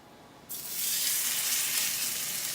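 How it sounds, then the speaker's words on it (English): Sous vide pork hits a hot pan and bursts into loud, steady sizzling that starts abruptly and holds as a close, bright hiss with no voices. "Listen to that pork sizzle."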